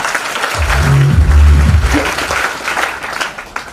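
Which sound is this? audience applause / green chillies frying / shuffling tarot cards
audience applause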